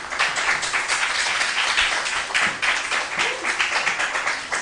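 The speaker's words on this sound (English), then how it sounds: "A hearty round of applause for our contestants." Audience at a quiz show applauds its contestants, a steady wash of many hands clapping that holds for several seconds at moderate loudness.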